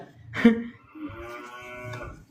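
A cow moos a few times in low, drawn-out calls, fairly close, with a brief louder burst near the start.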